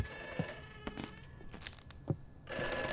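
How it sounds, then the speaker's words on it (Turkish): Telephone bell ringing in the horror video game Summer of '58, a steady ringing tone that sounds in bursts and stops, with faint footsteps or knocks between rings. "Telefon çalıyor."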